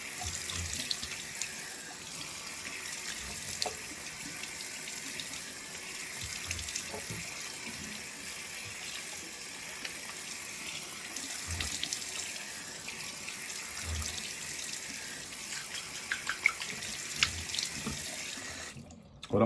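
Warm water runs steadily from a tap into a sink during a shaving routine, a continuous close splashing stream with no talking.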